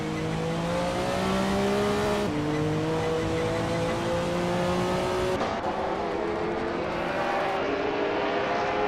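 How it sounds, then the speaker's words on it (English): Racing cars engines rev and whine in a video game, including a 1999 Lotus Esprit GT1, with loud continuous engine tones that shift pitch at gear changes, close and without speech. "Mutube is driving a Lotus Esprit GT 1 from 1999"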